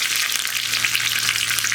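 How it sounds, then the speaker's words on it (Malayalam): Mustard seeds crackle in hot oil for a carrot chutney tempering, a steady loud close sizzle with dense fine spatter and no voices. "ഇപ്പോൾ നമ്മുടെ കടുക് പൊട്ടിക്കൊണ്ടിരിക്കുന്നുണ്ട്"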